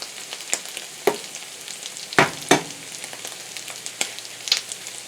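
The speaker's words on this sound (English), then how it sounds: "and the butter is melting in this pan." Butter melts and sizzles in a frying pan beside corned beef, a steady close hiss broken by a few sharp pops and clinks, with no voices.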